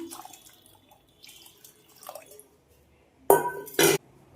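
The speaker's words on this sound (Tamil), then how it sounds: "இப்போ வந்து தண்ணி சேர்த்துடலாம்" Water is poured into a pressure cooker holding lentils and mutton for mutton dalcha. After a quiet stretch, two short, loud splashing bursts come close together near the end.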